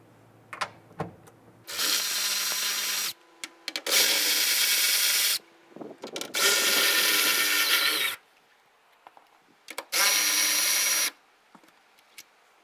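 A power tool loosening and removing 10mm taillight nuts on a 2012-2017 Toyota Camry, heard as four loud, steady whirring bursts of one to two seconds each, with small clicks and handling noises between them.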